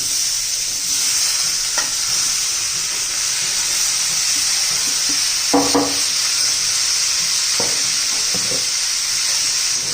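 Tomatoes fry and sizzle in a hot pan for a spicy tomato chutney with red chili powder and salt, a steady hiss throughout, broken by a few brief stirring scrapes near the middle and toward the end.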